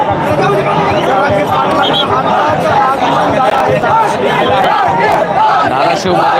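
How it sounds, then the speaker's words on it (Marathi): A large crowd fills a silent peace rally in Dharashiv: a dense, continuous roar of chatter and shouting that stays loud throughout. "प्रचंड गर्दी आपल्याला पाहायला मिळते"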